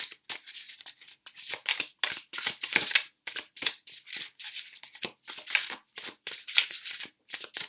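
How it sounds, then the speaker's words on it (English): A Super Lunaris Tarot card deck being shuffled by hand in quick repeated riffling bursts, crisp and close, with brief pauses between each pass and no speech. "It does make quite a strange sound when you shuffle it"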